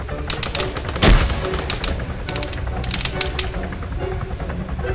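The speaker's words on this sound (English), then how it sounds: "we are taking a lot of fire here" Rapid gunfire crackles through an Arma 3 firefight, bursts of sharp shots in quick succession with one heavier blast, close and loud, under occasional voices.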